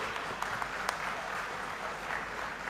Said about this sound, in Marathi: सर्वांनी उभं राहून टाळ्या वाजवल्या पाहिजेत